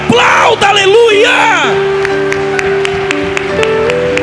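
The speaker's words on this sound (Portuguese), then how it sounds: "Se você acredita que Ele está aqui, aplauda, aleluia!" Church congregation during worship: loud close whoops and shouted cheers rise and fall at first, then give way to a held voiced tone with scattered sharp claps beneath it.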